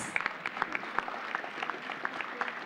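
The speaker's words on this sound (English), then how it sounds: "Please put your hands together for Prashant, who helped us with these float" Audience applause at a kindergarten rhythm and rhyme event, a steady patter of many hands clapping at moderate distance, fairly quiet and even throughout without voices over it.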